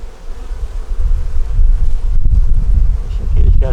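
Honey bees hum around an open hive, a low, close buzzing that swells and fades under wind noise against the microphone, with a voice briefly audible near the end.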